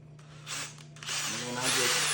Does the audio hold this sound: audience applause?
no